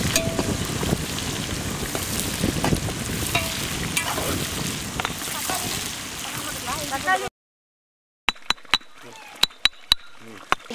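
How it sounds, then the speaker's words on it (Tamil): Chopped large onions and green chillies frying in a pan for chicken biryani, a steady loud sizzle with stirring scrapes. A short silence follows, then sparse sharp clicks and knocks. "கட் பண்ணின பெரிய வெங்காயத்தை சேர்த்துக்கலாம். பச்சை மிளகாய் போட்டுக்கலாம்."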